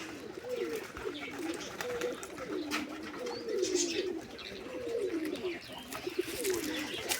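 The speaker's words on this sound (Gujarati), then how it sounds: "અહીં આપણા કબૂતર બેઠા છે" A group of pet pigeons, some of them white, coo softly and repeatedly nearby, the low rolling calls overlapping in a steady rhythm over faint background noise.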